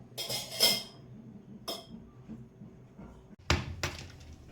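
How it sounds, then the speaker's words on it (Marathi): Jaggery being broken for ukdiche modak in a home kitchen, a few sharp knocks and cracks spaced out, two near the start and a louder pair near the end, with quiet gaps between. "इथे ना गूळ मी फोडून घेते"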